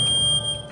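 A photoelectric smoke detector alarm sounds a loud, steady, piercing electronic tone that holds for most of the moment before easing slightly, with no voices.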